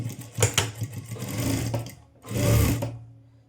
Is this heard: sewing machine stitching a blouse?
yes